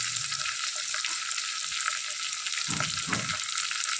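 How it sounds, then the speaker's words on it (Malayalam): Bird's eye chili, ginger and green chili sautéing in oil with turmeric for a rose apple pickle, a continuous close sizzle with a brief stir-like scrape near the end. "കാന്താരി, ഇഞ്ചി, പച്ചമുളക് എല്ലാം നന്നായിട്ടൊന്ന് വഴന്ന് വരാൻ തുടങ്ങിയിട്ടുണ്ട്"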